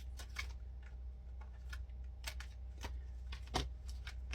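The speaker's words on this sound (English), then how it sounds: "I'm going to put this side of the deck down and pick up the other side and shuffle it out" Tarot deck being shuffled by hand, a quiet series of soft, irregular riffling and slapping card sounds close by over a low steady hum.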